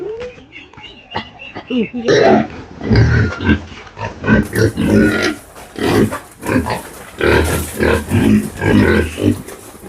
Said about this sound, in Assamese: আপোনালোকে তো দেখাও পাব লাগিব গাহৰিয়ে কেনেকৈ খাইছে এই ফিড